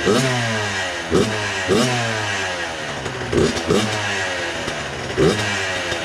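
A Suzuki RM 85 two-stroke dirt bike, a $600 build, revs up loudly and close by in repeated blips. It rises and falls rhythmically over a rough idle, with no talk.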